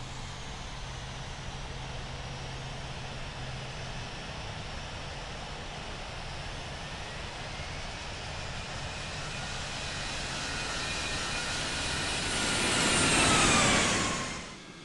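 A simulated airliner taxis at London Heathrow in the Infinite Flight game, a steady jet engine whine that swells louder toward the end, with no talk.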